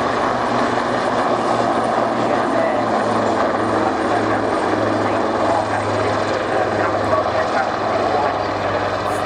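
A Wildcat helicopter at the Yeovilton air show gives a loud, steady rotor and engine drone throughout, with a faint voice of a commentator under it.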